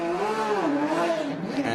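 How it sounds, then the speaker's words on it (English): Porsche race car at the ADAC GT Masters at Lausitzring, the engine revving with rising and falling pitch, a brief close burst of throttle over track noise. "Porsche fires up once again."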